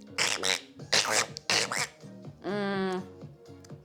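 A human voice imitates a duck with a series of nasal, buzzy quacks in short bursts, ending in one longer, drawn-out quack, close to the microphone.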